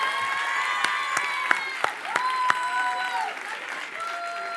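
Lively audience at a Congolese music show claps, scattered sharp claps over sustained tones and chatter, with some cheering in the room.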